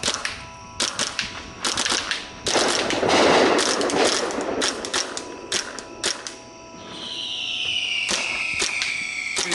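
Rapid bursts of sharp popping shots from a Tippmann A5 paintball marker firing full auto, loud and close, with brief pauses between volleys and a whirring mechanical tone near the end.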